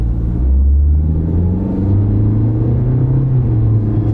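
Toyota car accelerating hard from first gear into its CVT transmission, a loud, close engine drone whose pitch climbs smoothly and steadily with no break or jerk.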